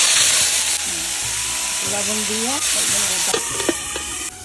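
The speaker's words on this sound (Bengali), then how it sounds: "তেল দিয়ে দিই, মোচাটা আলু দেবো তো, তার জন্য আলু কটা আগে ভাজতে নেই" Cut potato pieces frying in hot oil for a banana-flower dish, giving a steady close sizzle throughout with a brief spoken phrase over it.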